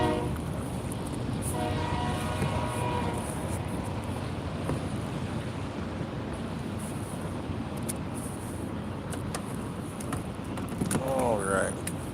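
A train approaches from the other way across water near a pond, its horn sounding early with harmonic tones over steady rumbling noise, wind and outdoor background, with faint speech.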